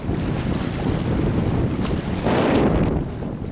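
Wind blows hard along the Deep Creek Lake shoreline on a cold day, buffeting the microphone in a loud, continuous roar with a stronger gust near the end and no talk.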